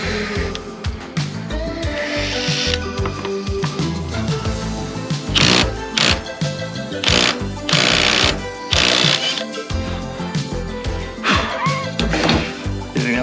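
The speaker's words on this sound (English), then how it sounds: "So I've got my impact driver." An impact driver hammers at the rear sprocket nut of a 2020 Kawasaki Ninja ZX6R 636 in a garage, loud and close, with rapid rattling bursts that rise and fall over the whole stretch.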